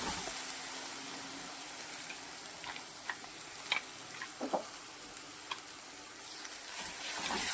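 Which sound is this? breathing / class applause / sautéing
sautéing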